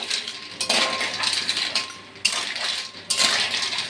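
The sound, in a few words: stirring food boiling in salted water in a pot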